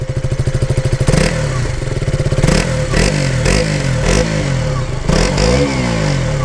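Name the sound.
small motorcycle with stock exhaust revving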